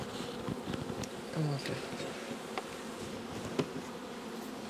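Honeybees buzz steadily around a swarm being moved into a hive in an apiary, a dense continuous drone close by, with quiet French speech over it.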